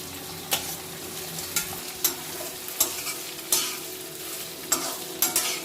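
Boiled potato pieces frying in a pan for sabudana khichdi, a continuous sizzle broken by regular sharp scrapes of a spatula stirring, close and alone with no voices.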